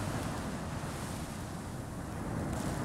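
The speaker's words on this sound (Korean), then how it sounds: "오늘은 파도 소리가 좀" Waves breaking along Gyeongpodae beach, Gangneung: an unbroken close wash of surf mixed with wind rumble on the microphone, even and fairly loud for the whole stretch, with no one speaking.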